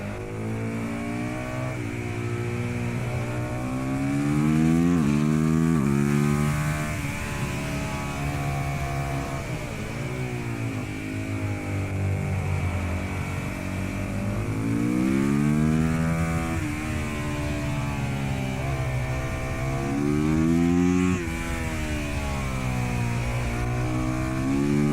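Motorcycle engine rising and falling through repeated revs and gear changes, a continuous close drone with harmonics sweeping up and down over a steady low hum, with no talk.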